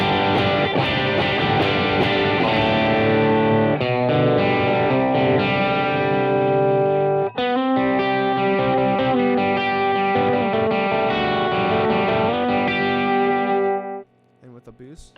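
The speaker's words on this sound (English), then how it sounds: "next in line is the D&M Drive by Keely. This is my second gain stage" Electric guitar played through a Keeley D&M Drive overdrive pedal on a worship pedalboard, a sustained chordal passage with a clear overdriven tone and rich harmonics that rings steadily before cutting off near the end.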